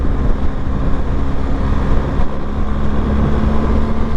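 A BMW GS 1250 motorcycle being ridden, giving a steady low engine drone mixed with heavy rushing wind noise, loud and constant with no pauses.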